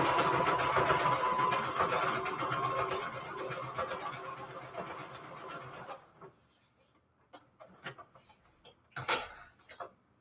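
A sewing machine runs a wide honeycomb stitch through paper strips with a fast, steady mechanical whir. After about six seconds it stops, leaving a few scattered clicks and handling noises.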